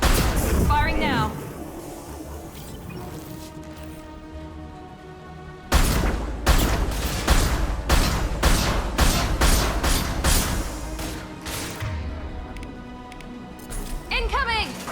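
Mass Effect 2 weapons fire in a quick run of loud, evenly spaced shots after a short stretch of game voice dialogue, with a final burst near the end.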